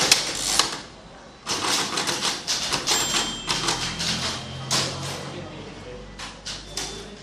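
Rapid clacking bursts come from a braille writer being typed on quickly at a school for the blind. The keys strike in irregular clusters with short pauses, close and fairly loud, and a voice talks over the typing.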